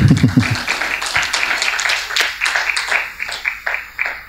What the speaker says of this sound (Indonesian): saya tahu tepuk tangan ini nggak semua karena memang masih serius